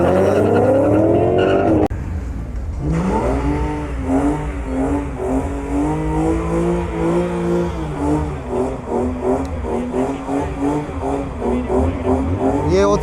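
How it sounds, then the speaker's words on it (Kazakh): Drag race cars at a Kazakhstan drag event accelerate hard, loud and close, each engine note climbing repeatedly through rapid gear shifts after a brief opening roar and a short pause. "Екеуінің жарысқанын көрейік, қайсы ұтатынын бірге тамашалайық достар"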